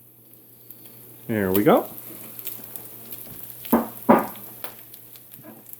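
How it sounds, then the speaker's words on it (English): Chopped onion hits hot bacon fat in a pan for linguine carbonara, bringing a burst of sizzling and stirring, with a brief spoken remark early on. "So I'm going to go ahead and add our onion to this."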